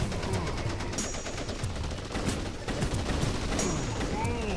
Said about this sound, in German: die Puppen machen wir am besten hier mit der Maschinengewehr